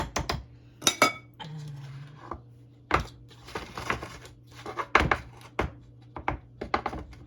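Cornbread batter scraped from a bowl into a baking pan, heard as sharp utensil clinks and taps against the dishes with short scraping strokes in between, close and fairly quiet.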